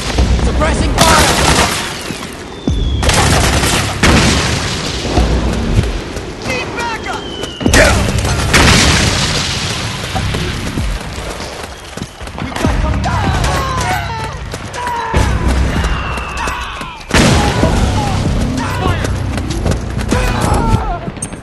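Suppressing gunfire and explosions from Metal Gear Solid 4 roar loudly and continuously, with repeated heavy bursts and booms punctuating dense battle noise throughout.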